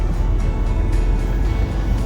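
A car engine idles and hums steadily at close range while the car is parked, a continuous low rumble with no talking over it.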